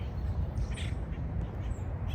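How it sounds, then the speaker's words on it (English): Outdoor bird calls, including harsh caws and a few higher chirps, over a steady low rumble of background noise. "All the birds chirping on the ground"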